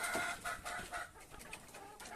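Hens cluck at a Fayoumi poultry farm, a quiet run of soft, repeated clucks and calls from several birds, faint and somewhat distant with no talk over them.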